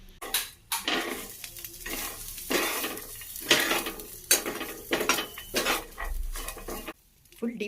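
Dry spices stirred in a pan without oil, curry leaves, garlic, cumin and tamarind rustling and scraping under a spoon in repeated strokes, with clinks of metal against the pan and faint crackling between them.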